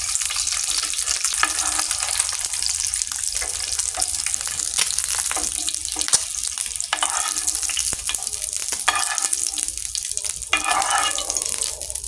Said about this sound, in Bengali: গোল্ডেন ব্রাউন কালার যখন চলে আসবে তখন ডিমগুলো নামিয়ে ফেলবে।